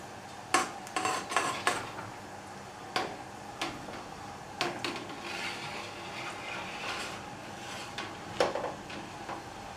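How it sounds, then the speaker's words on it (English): A metal wort chiller goes into a boiling brew kettle, making a series of sharp, irregular metallic clanks and taps over a low, continuous background hiss. "It's time to add the wort chiller."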